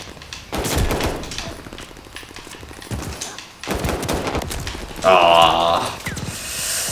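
Pistol gunfire in a video game shooter comes as sharp repeated shots in bursts, loud and close, mixed with clattering weapon mechanics and game noise.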